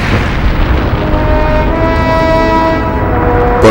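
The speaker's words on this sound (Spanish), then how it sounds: "Se había producido con una explosión de 1 millón de megatones." A massive asteroid impact explosion rendered as a loud, deep, sustained rumbling roar with a droning tone layered over it, filling the whole few seconds without a break.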